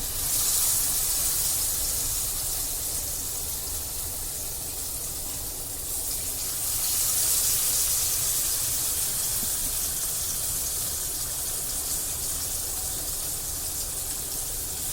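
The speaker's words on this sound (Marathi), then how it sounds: "तवा चांगला तापलेला आहे त्यामध्ये फिश घालूया" Pieces of rani fish, Agri-style, sizzle on a well-heated tava in a continuous hissing fry that swells slightly near the start and again midway, close and fairly loud, with no one speaking.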